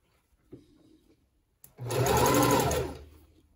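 A sewing machine top-stitches elastic onto leotard fabric, starting after a faint brief whir and then running in one steady, close, fairly loud burst of about a second and a half before slowing to a stop.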